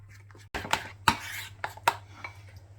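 A spoon mixes egg and marinade ingredients for chicken manchurian in a bowl, producing several close, sharp clinks and scrapes against the bowl's sides over a low background hum.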